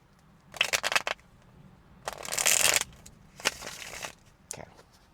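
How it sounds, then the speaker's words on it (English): Wicca Oracle cards being shuffled in several separate bursts of riffling and card flutter with short pauses between them, close up and fairly quiet, with no talking. "We're going to get a good shuffle, and then we'll set these cards aside."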